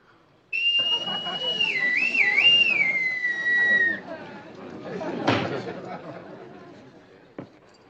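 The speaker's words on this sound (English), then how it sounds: "I blow the whistle. You do what? Blow the whistle. whistle, the pipe." A shrill bosun's pipe sounds one long, warbling call for several seconds, with murmuring voices underneath and a thump near the end.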